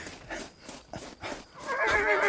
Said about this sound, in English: When I reached Stephanie, she had already tied her horse to the banister